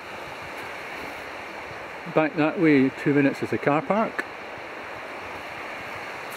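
A river rolls steadily past near the start of the Wangapeka Track close to a bridge, a constant broadband rush filling the whole clip while someone speaks briefly over it.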